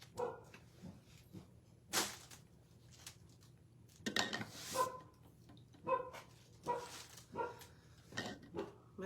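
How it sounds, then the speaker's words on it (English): An indoor dog gives a series of sharp barks mixed with whimpers and yips, irregular bursts spread across the clip at moderate distance, fairly quiet overall with no speech. "My sister's dog does not behave. She does not understand that it is quiet time."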